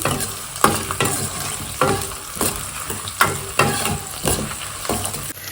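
Onion, garlic and chilies frying in a pan, a close sizzle punctuated by regular rhythmic spatula strokes roughly every half second, loud and without talk.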